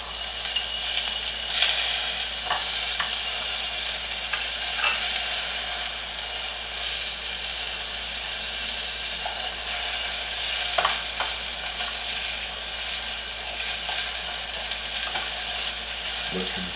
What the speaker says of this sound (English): Put the onions in there. Picking that up, doing some saute work there.